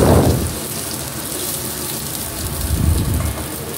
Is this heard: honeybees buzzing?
no